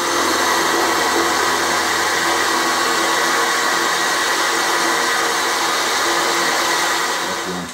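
A milling machine drives an endmill through a cut at a slow 50 mm/min feed, giving a steady, loud, broadband whine and hiss that holds evenly throughout and fades slightly at the very end.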